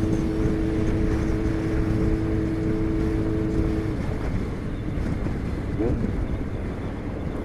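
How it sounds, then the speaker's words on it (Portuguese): Continuous loud roar of highway traffic from a moving motorcycle, with a large truck close by on the left; heavy wind buffeting and engine drone fill the clip, a low tonal hum fading midway. "Repito, caminhãozão na esquerda."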